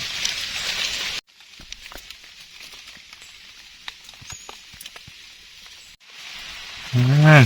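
Rain comes down while someone gathers mushrooms outdoors: a loud hiss at first, then softer scattered patter with occasional drops, then heavier rain again. A voice speaks near the end.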